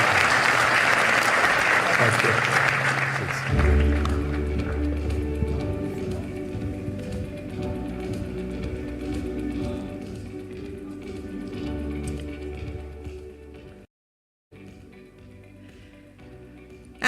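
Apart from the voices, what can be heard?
audience applause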